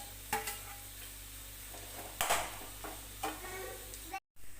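Sliced onions with green chili and curry leaves sautéing in a pan for a jackfruit-seed bhaji curry, quiet background sizzle broken by a few sharp spoon scrapes and clinks against the pan.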